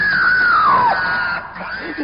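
A single long, piercing scream sounds at night at a camp, loud and close, sliding downward before fading into rough background noise.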